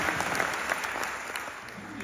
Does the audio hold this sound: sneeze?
no